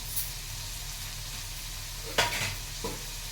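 Onions fry in a pan with a low steady sizzle, broken by a couple of brief louder clatters of stirring near the end, close by, with no talking.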